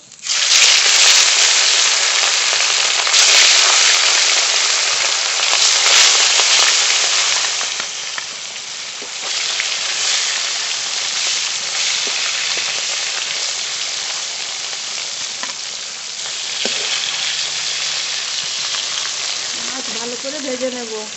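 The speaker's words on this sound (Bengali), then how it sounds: "তেল ভালো করে গরম হয়ে গেছে একটু লবণ দেব মাছ দেবো" Pieces of rui fish sizzle and crackle in hot mustard oil in a pan, a loud, steady hiss for the first several seconds that then settles to a quieter, continuous spatter with occasional pops.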